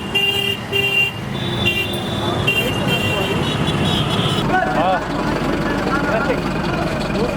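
Busy Indian street traffic with mopeds and cars, a continuous dense roar of engines and road noise punctuated by repeated horn toots, with voices talking over it.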